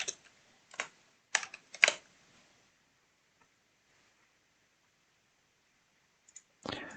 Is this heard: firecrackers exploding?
no